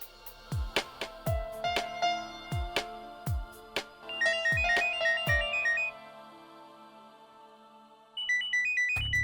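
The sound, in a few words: phone ringtone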